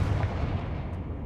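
A Confringo fire spell blasts in the Hogwarts Legacy video game, a loud, dense, continuous explosive roar filling the whole moment with no voice over it.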